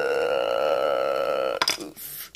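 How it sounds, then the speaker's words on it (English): A long, loud, tonal burp drawn out for over a second and a half, ending abruptly in a few short noisy bursts. "Fire burp."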